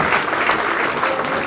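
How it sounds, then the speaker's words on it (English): A university audience at an entrepreneurship awareness event claps in a continuous, loud, dense wash of applause that holds steady throughout. "So big round of applause for them"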